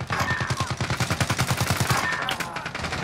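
An AK rifle in a video game fires a long, rapid automatic burst of close, loud shots, then breaks off into a few scattered bursts.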